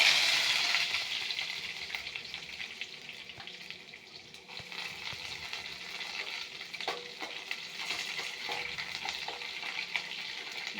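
Garlic, dried red chillies and curry leaves fry in hot oil in a pan, giving a steady close sizzle that starts loudest and settles into a softer crackle, with faint stirring scrapes and no talk.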